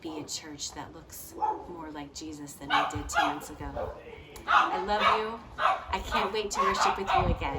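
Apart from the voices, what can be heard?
neighborhood dogs barking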